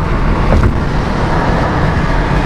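A 5.8-litre 351 Cleveland V8 car cruising along, steady low engine drone mixed with road and wind noise, continuous and fairly loud with no talk.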